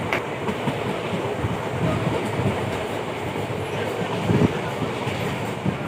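The Nabadwip Dham–Malda Town Express rumbles close by as it enters the Ahiran rail bridge, a steady dense roar with rhythmic clatter of wheels on track, swelling slightly toward the end.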